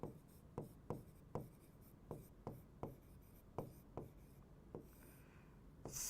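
Pen writing on a board or paper during a biology lecture, heard as a series of short, crisp strokes and taps at irregular intervals, close and clear in an otherwise quiet room.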